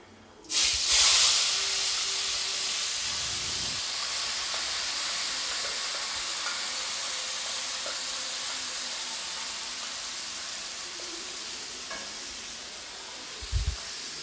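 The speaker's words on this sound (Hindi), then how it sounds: "जब जीरा जब अच्छी तरीके से क्रैकल हो जाए" Cumin seeds crackle and hiss in hot oil for a dal puri filling, a steady broad sizzle close by with a louder burst at the start and a brief knock near the end, no talk.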